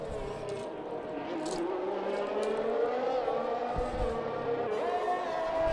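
A string of race cars drives out onto the Silverstone circuit in a racing video game, engines droning and rising in pitch at moderate loudness, with faint thumps and a swell near the end.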